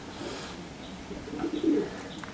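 Domestic pigeons in a loft give soft, low cooing, a short burst of throaty coos near the end over faint background rustle and chirps.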